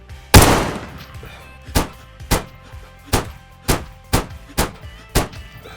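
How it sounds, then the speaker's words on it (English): Ash 12 semi-automatic rifle chambered in .50 BMG firing in a video game: one sharp, booming first shot, then seven more heavy single reports at a steady, roughly half-second-plus pace, loud and close with no talk. "first in the 50 BMG series, we have the Ash 12, 10-round semi-automatic."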